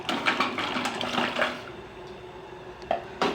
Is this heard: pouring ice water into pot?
yes